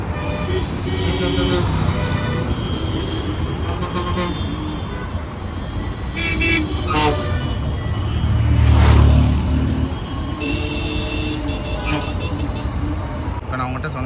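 Heavy traffic jam on a busy road in Madurai: cars, buses and trucks idle and rev close by, with engines swelling into a louder pass near the middle and horns cutting through, while someone talks over the din.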